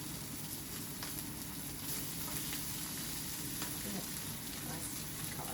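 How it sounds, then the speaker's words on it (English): Prawns fry in coconut cream reducing in a hot pan, flavoured with ginger and garlic, giving a steady, close, bubbling sizzle with occasional crackles and stirring scrapes, quiet and continuous. "we want to reduce our coconut cream down a bit"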